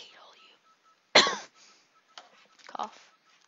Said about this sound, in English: Cough.